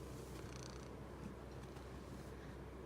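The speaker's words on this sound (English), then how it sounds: "And you're purring." A kitten purring softly and steadily throughout, a faint continuous low rumble close by with no talking over it.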